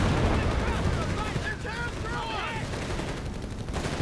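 A .30 cal machine gun rattles in Company of Heroes 3, steady bursts of rapid fire with battle noise layered over it and a voice briefly talking in the middle.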